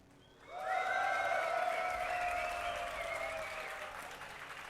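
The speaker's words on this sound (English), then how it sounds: "Not a lot of applause here." An audience at a DreamHack esports event for League of Legends gives a modest round of applause with some cheering tones, rising quickly and then holding steady before slowly easing.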